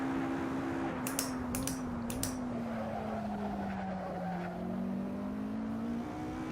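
Race car in Assetto Corsa on PC, a steady high engine whine holding a sustained tone with slight pitch dips, plus a few brief sharp clicks near the start, continuous and close.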